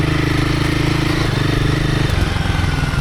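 A Royal Enfield Himalayan 450 motorcycle rides sandy Michigan singletrack with a loud, steady, throbbing single-cylinder engine drone close by that shifts slightly in pitch partway through.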